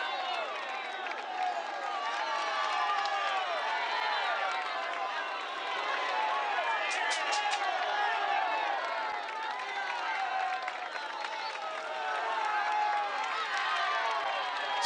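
A large roadside crowd at the final Vuelta a España stage into Madrid applauds and cheers cyclists in a steady, dense roar that continues throughout, with a commentator's voice over it.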